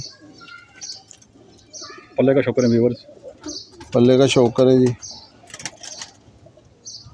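Pigeons at a breeder's loft give deep, throaty coos in two strong bursts, with lighter chirps scattered around them and someone talking in between.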